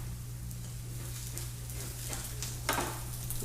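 Savoury French toast sizzles on a griddle while a spatula presses and shifts it, a soft continuous fry with a few scraping strokes and a brief louder scrape near the end, no voices.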